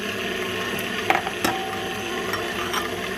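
An electric stand mixer with a whisk attachment beats eggs and buttermilk for cranberry orange muffin batter, giving a steady close mechanical whir with a few rattling clicks on top.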